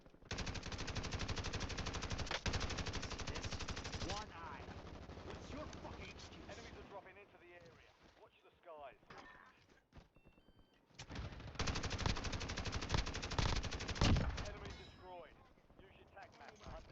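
Rapid bursts of video game gunfire, dense automatic fire in two long loud stretches separated by a quieter gap, with excited voices talking over and between the shots.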